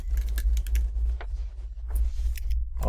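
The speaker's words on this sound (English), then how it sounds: "you just type their email in here and then click send invitation" An email address being typed on a computer keyboard, heard as quick, close keystroke clicks in uneven bursts over a steady low hum.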